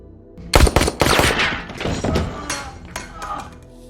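A rapid burst of loud gunshots in a film shootout in the dark, several sharp cracks close together, then scattered thuds and fainter shots trailing off.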